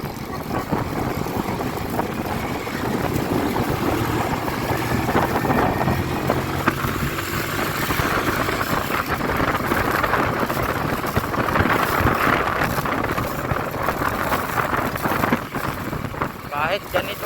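A motorcycle ridden along a road in Taytay, Rizal, its steady engine drone mixed with heavy wind rush against the microphone, continuous and fairly loud throughout.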